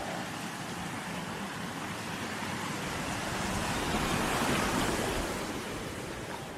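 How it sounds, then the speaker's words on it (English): Snowmelt runoff rushes steadily through a mountain creek along a trail with lingering snow patches, a constant broad wash of flowing water that swells slightly toward the end, with no voices. "some of the runoff coming through"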